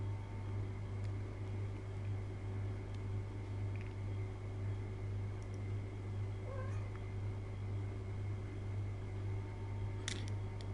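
A pet cat meows indoors, faint and somewhat distant, a few short calls over a steady hum of fan noise in an otherwise quiet room.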